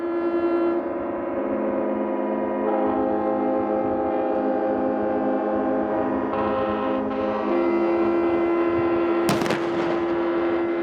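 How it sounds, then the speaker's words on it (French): Ship sirens and car horns sounding in celebration in Monaco, long sustained droning blasts layered over each other for the whole stretch, loud and continuous, with a sharp bang or burst near the end. "les sirènes des bateaux, mais également les klaxons des voitures"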